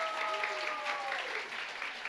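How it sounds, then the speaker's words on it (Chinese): A church congregation at a Chinese-language worship service applauds a drama troupe with a short, dense burst of clapping that holds steady and starts to thin toward the end. "再让我们给你们掌声"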